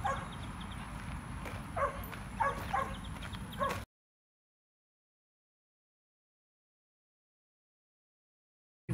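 Small dogs, including Cocker Spaniels, bark and yip in the small dog section of a park in Sugar Land, Texas, a few sharp barks over outdoor background noise before the sound cuts to silence.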